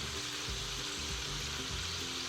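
Chicken frying in a pot with browned onions, a steady dense sizzle with occasional low stirring knocks, close and constant, no talking.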